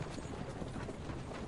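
Horse hooves clip-clop quickly during a chase in the video game Assassin's Creed Brotherhood, a brief, faint patter of rapid hoofbeats under a low background wash.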